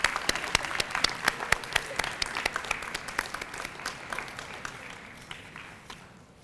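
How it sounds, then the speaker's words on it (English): A crowd claps at a dual enrollment celebration, sustained applause with distinct individual claps standing out, loud at first and gradually thinning and fading toward the end. "Keep clapping so there's noise to walk up to."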